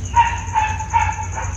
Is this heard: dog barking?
yes